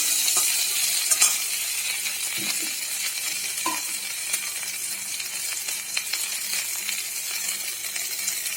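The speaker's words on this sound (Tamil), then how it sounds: "அதையும் சேர்த்து ஒரு 2 நிமிஷம் நல்லா வதக்கி விடலாம்" Onions and other ingredients for hotel-style tomato chutney sautéing in a pan, giving a steady close sizzle with occasional faint clinks and scraping of stirring, no voices.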